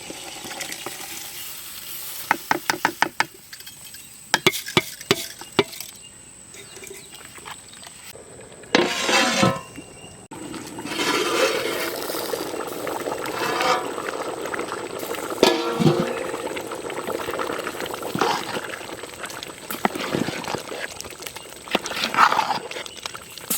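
Soaked rice is tipped into a large pot of guinea fowl biryani cooked village style: a scattered clatter and rustle of grains comes first, then a fuller, continuous bubbling sizzle with occasional scraping knocks.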